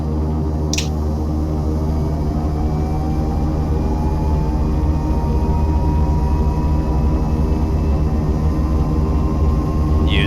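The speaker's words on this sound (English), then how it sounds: "And go ahead and start engine number 1." A Turbo Commander 690B turboprop engine starting up in a flight simulator, a steady loud droning whine with a slowly rising tone and a sharp click near the start.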